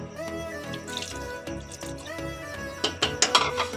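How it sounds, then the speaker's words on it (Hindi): Water runs and splashes into a pot of minced meat (keema) in a home kitchen, a steady trickling pour with brief louder splashes toward the end, close by and without talk. "ये देखिए मैंने इसमें पानी डाल दिया है, थोड़ा सा और डाल दूँगी"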